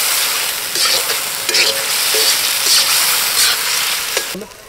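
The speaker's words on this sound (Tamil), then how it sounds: "இப்போ அப்படியே நீங்கள் வதக்குறீங்க" Mutton liver sautés in a pan during village-style cooking, a continuous loud sizzle broken by repeated scraping stirs of the spatula.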